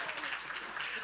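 Louder, sustained audience applause at an Aspen Institute panel event, a thick continuous wash of many hands clapping at once.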